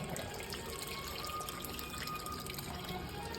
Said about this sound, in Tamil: காய் வெந்தாட்டி நான் புளி ஊற்றிக்கிறேன்